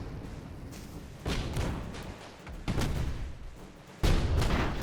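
Cannon fire and aerial torpedo hits during an airship battle in Airships: Conquer the Skies, heard as three heavy booming impacts at steady intervals, each sharp onset followed by a rumbling wash of noise.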